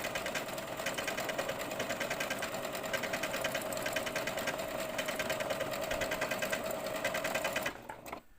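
A sewing machine runs steadily while stitching fabric. Its rapid, even needle rhythm is close and continuous for about seven and a half seconds, then stops abruptly.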